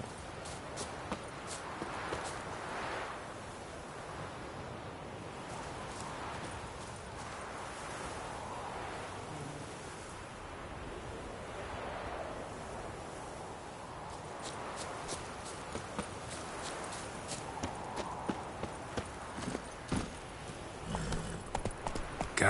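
Roach the horse trotting in The Witcher 3, a soft rhythmic clip-clop of hooves that runs steadily at moderate distance over ambient game sound, with hoofbeats growing sharper and denser toward the end.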